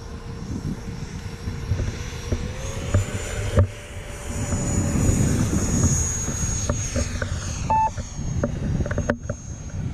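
An E-flite F-18 Hornet model jet with an 80mm electric ducted fan flying overhead, a steady whining fan drone with wind noise and a few short beeps from a transmitter.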